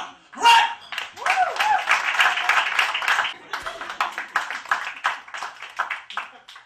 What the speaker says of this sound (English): the sound of two hands coming together is applause